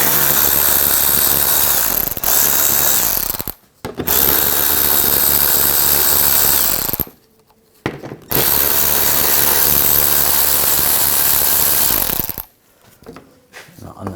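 A power tool with an 8mm socket whirs loudly and close as it removes underbody panel fasteners on a 2000-2006 BMW X5. It runs in three long bursts separated by brief pauses, with no talk.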